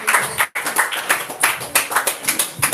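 A church congregation claps in worship, producing loud rhythmic clapping in an even beat that breaks off briefly and then resumes without any speech.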